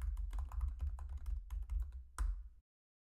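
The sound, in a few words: typing a test message on computer keyboard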